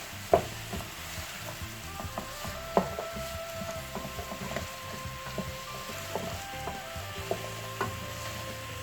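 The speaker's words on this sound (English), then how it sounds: "I'm going to stir fry this for 3 minutes" Vegetables for chicken fried rice sizzle quietly in a hot pan, with soft scraping and occasional clicks of stirring over a steady low frying hiss.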